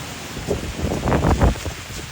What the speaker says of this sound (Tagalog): ang lakas na ng hangin guys